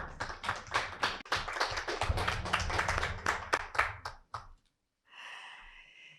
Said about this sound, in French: On peut les applaudir virtuellement.